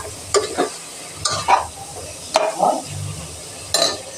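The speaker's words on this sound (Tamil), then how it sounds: "நல்லா வதக்கி விட்டுக்கலாம்." Potatoes being sautéed into chicken curry in a pan, with a soft sizzle under several brief scraping stirs of a spoon against the pot, close and moderately quiet.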